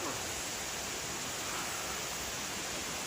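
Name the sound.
Shine Falls waterfall, New Zealand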